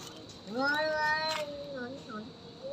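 Two cats fighting indoors, yowling and caterwauling in rising, wavering howls with a brief hiss, close and fairly faint, with a person talking nearby.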